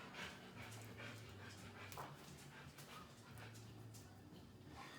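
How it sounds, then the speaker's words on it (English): Dogs in the background of a home kitchen, panting, whimpering and yipping with occasional short barks, faint and somewhat distant, with faint talk nearby. "Sorry if you hear my dogs in the background."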